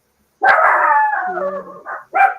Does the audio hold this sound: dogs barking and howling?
yes